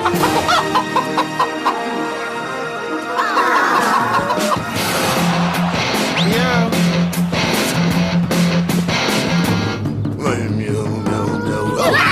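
Several chickens cluck and squawk close by, a busy overlapping chatter of hens with occasional sharper calls over a steady background hum.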